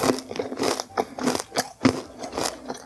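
Crunchy homemade caramel popcorn bingsu with slightly over-melted mini marshmallows being bitten and chewed up close, a run of sharp, brittle crunches repeating in quick bursts for about three seconds with no talking.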